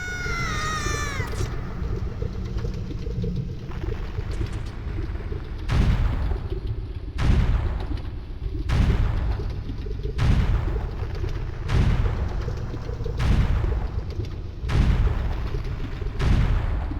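Repeated bomb blasts in Zelda: Ocarina of Time, about ten heavy low booms arriving at a steady pace of roughly one every one and a half seconds, each with a short rumbling tail over a constant game background.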